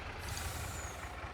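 A truck air brake in Farming Simulator 22: a steady broadband hiss of released air over a low engine rumble, faint and continuous.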